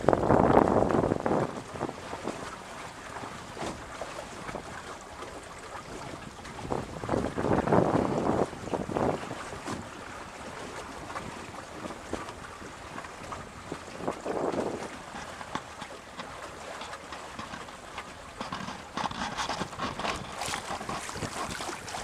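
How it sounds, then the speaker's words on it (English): Gusty wind roars across the microphone aboard a 1986 Mudhen 17 sailboat under sail, with surges of wind noise between quieter lulls and a faint wash of water beneath, continuous and close. "Some pretty good wind, and then we have some lulls."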